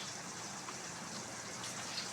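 Running water splashes steadily as vegetables are rinsed, a faint, even gush throughout with no speech.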